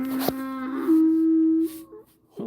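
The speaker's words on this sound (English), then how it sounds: "The donkeys." A donkey gives one long, loud, sustained bray close by, a steady droning call lasting over a second, followed by a shorter honk.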